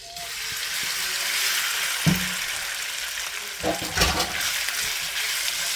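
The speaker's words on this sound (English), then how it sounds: "Now everything is heated up. I'm going to go ahead and add the pork in." Pork pieces frying in butter in a hot pan, a steady loud sizzle with a couple of sharper spatters and clatters as meat goes in.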